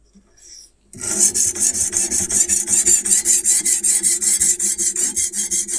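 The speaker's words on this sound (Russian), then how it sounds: "Ощущается, когда только первый раз проходишь по режущей кромке от прошлого камня, более шершавый звук такой" Steel knife edge rasping across a whetstone on a Ruixin Pro RX-008 sharpener, a rough scratchy grinding in steady back-and-forth strokes, close and fairly loud after a brief quiet start.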